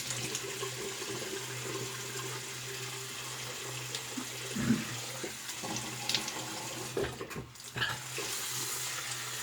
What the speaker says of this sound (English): Back to where I can get basically some cold water out of my taps.